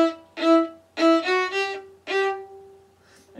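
Solo cello playing short segments of a melody, a few bowed notes in a halting rhythm with small pauses between phrases, close and moderately loud, with no voice.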